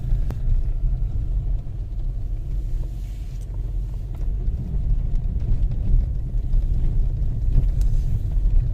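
Car engine labouring up a snow-covered mountain road in Spiti in winter, a steady loud low rumble heard from inside the vehicle with no talking.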